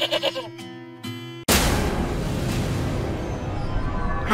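A cartoon goat bleats several times in short wavering cries. Then a loud, constant noisy wash cuts in and lasts to the end.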